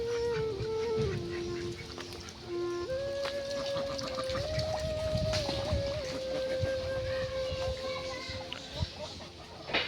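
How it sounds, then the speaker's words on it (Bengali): Farm ducks quack and honk on a flooded farm during heavy rain, a steady chorus of calls close by, with a person's voice sounding over them. "এগুলো হলো আমার হাঁস"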